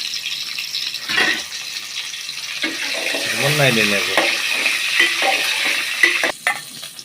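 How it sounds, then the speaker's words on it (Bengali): Beaten eggs seasoned with salt and turmeric fry in a pan, giving a continuous close sizzle and stirring scrapes, with a brief voice partway through and a sharp clatter near the end. "আমাদের ডিম ভাজা শেষ"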